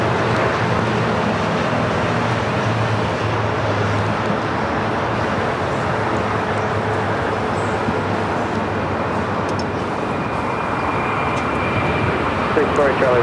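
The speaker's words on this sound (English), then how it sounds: "Austrian 777 touching down 24 right on the north side" An Austrian Airlines Boeing 777 touching down on runway 24 right at LAX: a loud, continuous rumble of jet engines and roll-out noise holding level throughout, with no talk over it.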